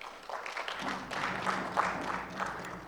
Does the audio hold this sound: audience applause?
yes